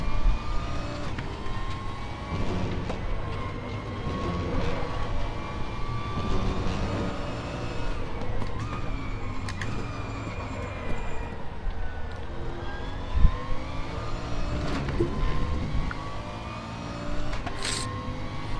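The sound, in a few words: Bentley C7R race car engine, RaceRoom racing video game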